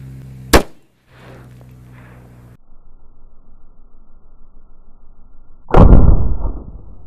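A 5.56 AR-15 rifle fires one sharp, loud crack up close. Quieter rustling follows, then a second loud, sustained burst of noise near the end.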